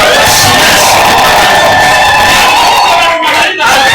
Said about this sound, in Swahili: Piga makofi na vigelegele.